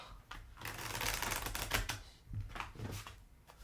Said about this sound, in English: I'm going to flip all the cards over at one time